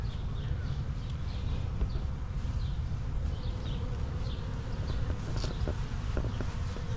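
Dense, steady buzzing of many honeybees swarming around a beehive outdoors, a continuous close drone with individual bees whizzing past now and then.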